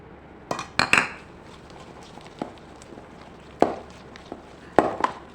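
A utensil scrapes and clinks against a bowl as a sweet guar mixture is stirred, giving a few sharp clusters of metallic knocks and taps between quieter stretches of soft mixing, close by with no talking.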